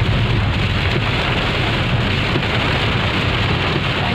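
Heavy rain drums steadily and loudly on a Suzuki Esteem while driving on a misty forest road, as an unbroken dense hiss with no voices.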